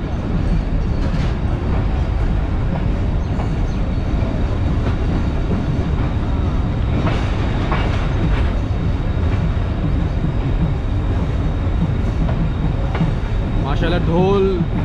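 A train runs at a railway platform on the Karachi to Kotri route, giving a steady loud rumble with rail clatter throughout, and someone talks over it.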